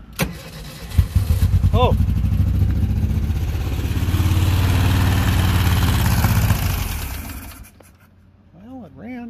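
An old Volkswagen Beetle engine cranks and catches, then runs loudly with a rough, steady roar for several seconds before dying away, with a few short exclamations from a man over it.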